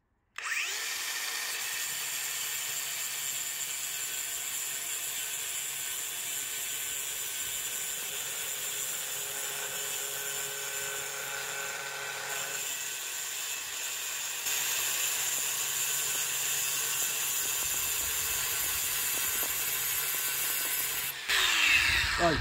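A power tool cuts a round hole in porcelain tile, a steady high grinding whine that holds close and loud for about twenty seconds, growing slightly louder toward the end before a brief pause.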